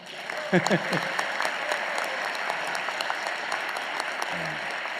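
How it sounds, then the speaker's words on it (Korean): Audience applause at a regional public meeting in Chungbuk, South Korea, given for a committee vice-chair. A thick, steady patter of many hands runs throughout, with a few brief voices breaking through near the start and end. "박수라도 한번 주십시오"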